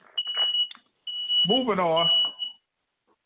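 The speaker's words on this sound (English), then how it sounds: "You done set up an alarm and shit." An alarm beeps as a continuous high electronic tone under a voice, fading out near the end of the stretch of talk.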